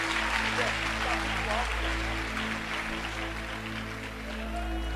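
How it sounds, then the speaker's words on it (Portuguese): Applause from a large church congregation rolls on steadily under a low hum, fairly distant and sustained throughout. "os que podem, tomem o seu assento aplaudindo a Jesus, porque Ele é bom"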